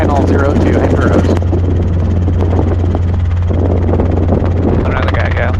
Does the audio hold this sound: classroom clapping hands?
no